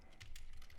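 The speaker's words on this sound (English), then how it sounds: "Yes, you do hear typing." Typing on a computer keyboard during live day trading gives a few quick, faint key clicks in a short, quiet burst, with no talk.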